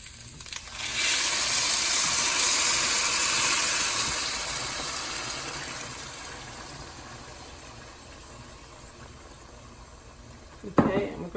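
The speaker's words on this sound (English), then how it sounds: "then I'm adding 3½ cups of water" Water pours steadily into a pot of rice mixture with frozen peas, a loud rushing splash that gradually fades as the pour slows, ending with a brief clatter.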